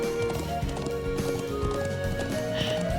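A horse gallops in the RPG Trails of Cold Steel, with quick, steady hoofbeats running under layered game music.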